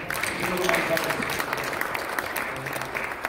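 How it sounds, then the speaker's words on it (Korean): A church congregation at a Korean united worship service claps together in a steady, dense round of applause, moderately loud and continuous, with a few voices mixed in beneath the clapping. "뜨거운 마음으로 박수 한번 주시면 감사합니다."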